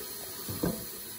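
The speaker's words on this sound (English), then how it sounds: "I'm just preparing a pot of hot water that we're going to use to scald the birds" Hot water runs into a pot, being prepared for scalding poultry on a homestead, a brief soft splashing stream heard faintly against steady background noise.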